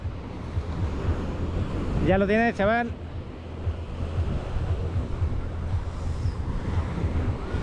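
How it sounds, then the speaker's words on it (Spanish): Rough sea waves breaking at a cloudy, breezy beach, a continuous loud wash with wind buffeting the microphone; someone speaks briefly partway through. "El mar está un poco movido, ya lo sabéis."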